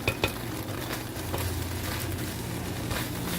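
Food fries in a Breville RM-BEW600XL electric wok, giving a quiet, even sizzle with a couple of light utensil clicks near the start and no talking.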